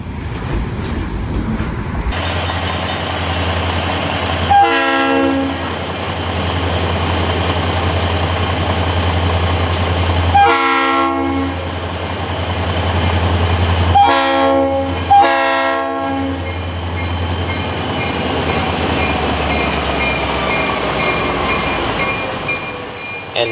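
A CSX freight train idles and rolls past with a steady low engine rumble, its horn sounding in several loud blasts, two of them in quick succession.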